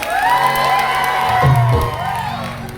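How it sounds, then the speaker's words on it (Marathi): An audience at a live folk shahiri performance cheers and whoops loudly, with a crowd of voices and clapping swelling briefly before easing off. "जोरदार टाळ्या उडवल्या तुमच्या बाबूसाठी."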